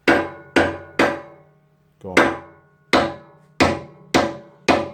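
A hammer taps a wheel cylinder held in a vise. Seven sharp metallic strikes ring out at a slow, uneven pace, each decaying briefly, with a short spoken prompt between them.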